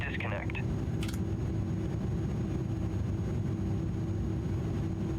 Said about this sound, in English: Love that high-pitched engine noise.